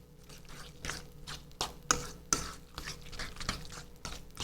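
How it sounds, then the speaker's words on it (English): A spoon stirring chopped cilantro into burrito filling in a pot, with soft repeated scraping strokes and a few sharper clinks against the pan, fairly quiet. "We'll just stir that right in."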